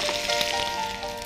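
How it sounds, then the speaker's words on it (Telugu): Cumin seeds and finely chopped green chillies sizzling in hot oil, a close, continuous crackling hiss with small pops, alone without talk. "కొంచెం నూనె వేడెక్కింది కాబట్టి ఇప్పుడు మనం పోపు వేసేద్దాం. ఇందులో ఫస్ట్ పోపుకి జీలకర్ర అండ్ కొన్ని సన్నగా తరిగిన పచ్చిమిరపకాయలు కూడా ఇందులో వేసుకుంటున్నాము"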